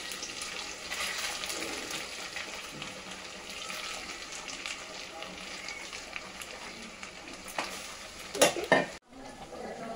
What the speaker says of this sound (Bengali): আমি আজকে ফ্রাইড রাইস করছি।